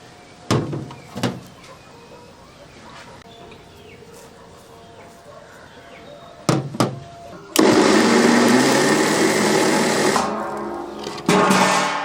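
A few knocks and clatters over quiet background, then a kitchen mixer grinder whirs loudly grinding coconut for several seconds, stops briefly, and starts again.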